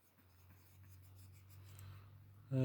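An abrasive rubs against a yellowed plastic part of a Britains Poliza toy motorcycle, a soft scratchy scrubbing close by, ending in a brief louder knock.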